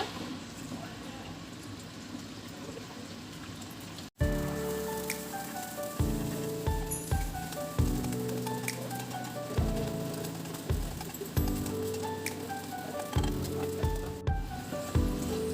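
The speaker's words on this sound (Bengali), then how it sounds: "প্রথমে ডিমটাকে ভালোভাবে ভেজে নেব" A single egg fries in a pan, a soft sizzle that jumps into a loud, crackling spatter that then carries on with pulsing bursts, as if oil is popping close by.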